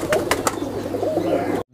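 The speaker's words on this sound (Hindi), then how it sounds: "काशिफ भट्ट साहब के कबूतर।" High flyer pigeons of the Chuha breed coo in a close, steady low murmur, with a few brief brighter sounds near the start, before the sound cuts off abruptly.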